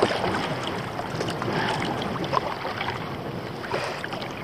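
Strong wind of roughly 20 to 25 miles an hour roars steadily around a kayak on open water near coastal dunes, a broad rushing buffet with light gusts and faint splashes, no voices.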